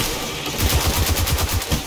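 Enemies fire guns in Destiny 2, producing a rapid automatic burst of repeated shots in a steady rhythm, loud and close, alone without talk.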